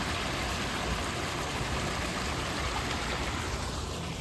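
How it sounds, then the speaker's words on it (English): A small waterfall in a shaded bamboo garden at EPCOT, its steady splashing rush filling the scene evenly and close by, with no voices over it. "A little waterfall here."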